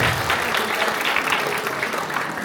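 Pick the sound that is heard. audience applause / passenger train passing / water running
audience applause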